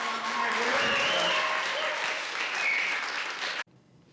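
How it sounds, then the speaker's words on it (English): A crowd at a reunion event claps in a full round of applause with some faint cheering and voices mixed in, sustained until it cuts off abruptly near the end. "Let's give him a big round of applause for all the hard"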